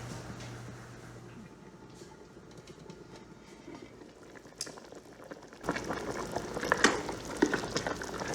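Red palm oil cooks with meat in a covered pot for Nigerian egusi soup, giving a steady bubbling sizzle that swells noticeably louder over the last few seconds, with no voices.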